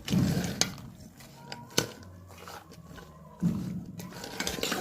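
Soaked chana is mixed by hand with lemon, black salt and roasted spices in a bowl, giving soft, close clinks and scrapes against the dish, with a few sharper taps and brief bumps between quieter stretches.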